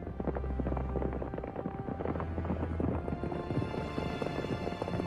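Cavalry horses charge up a steep slope toward a shield wall in an animated Battle of Hastings scene, their hooves making a dense, continuous drumming clatter that stays loud and steady throughout, with no talking.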